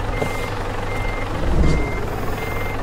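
A truck's reversing alarm in a truck-driving game mod, a steady repeating electronic beep over a low engine rumble.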